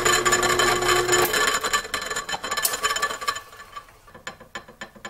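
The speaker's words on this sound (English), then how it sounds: "That noise you hear is somewhere in the gear train." A running lathe's gear train whirs loudly with a rattling hum, then gradually winds down as it coasts to a stop, ending in scattered clicks and knocks.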